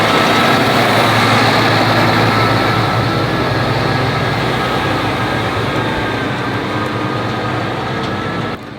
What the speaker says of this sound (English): this massive mower going out past me